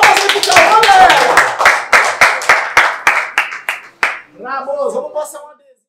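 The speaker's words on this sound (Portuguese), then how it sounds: "E próxima fase, palmas aí pro Cauã," Rapid hand clapping from a crowd at a rap battle, loud and steady at first, then tapering into scattered claps as voices take over near the end.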